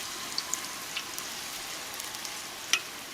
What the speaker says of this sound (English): I'm gonna lift it a little bit so that little center part gets a little frying.